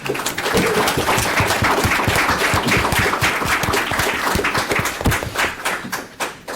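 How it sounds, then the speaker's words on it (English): Audience at a university panel event clapping loudly and continuously, dense individual claps close by, tapering slightly toward the end. "If you could join me in giving our panel a round of applause."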